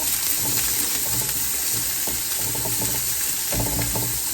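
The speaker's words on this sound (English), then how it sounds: "So we're going to add our onions, peppers, garlic. We're going to just gently soften and fry." Onions, peppers and garlic fry gently in a pan with only a little oil, giving a steady close sizzle and crackle with occasional stirring scrapes throughout.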